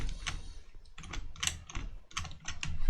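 Computer keyboard keys are pressed in quick, irregular bursts of crisp clicks and taps, close and fairly clear, with no talking.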